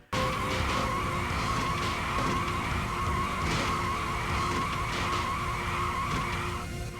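Continuous, excessive tire squeal from the Virtua Racing video game, a shrill sustained screech layered over engine roar that runs unbroken at a steady loud level.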